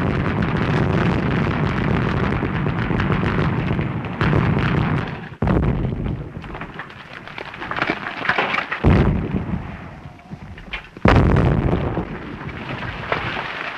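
Artillery bombardment in a World War I battle scene: a continuous roar of heavy booming blasts and rumbling explosions, loud and dense, with several sharp cut-off bursts and no voices.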